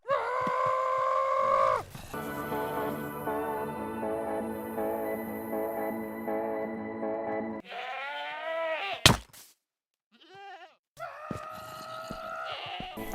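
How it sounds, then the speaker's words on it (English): A screaming goat in Minecraft survival lets out long, loud, wavering bleats, broken by a sharp burst and a short gap, then a final strained cry, with no talk. "And we got another screaming goat."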